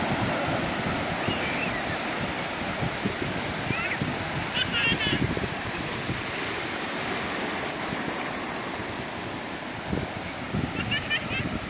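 Sea waves roll in at high tide on Mandarmani beach, a loud, steady wash of surf with wind buffeting the microphone and a voice talking over it in places.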